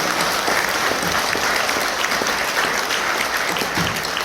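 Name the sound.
audience applause welcoming guests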